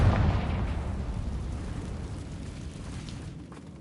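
A booming explosion from the Confringo spell in the video game Hogwarts Legacy bursts loud at first, then decays into a rumbling, crackling wash over a few seconds.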